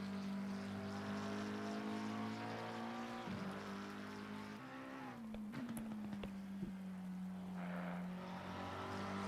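A BMW race car laps the Spa circuit in Assetto Corsa Competizione with a steady engine drone at a distance, its pitch briefly dipping at a couple of gear changes, fairly faint and without talk.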